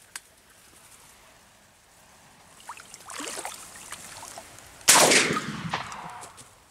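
A single sharp shotgun-style hunting shot cracks out near the start, then a louder gunshot blast later, with faint rustling outdoors in between, during an evening duck hunt.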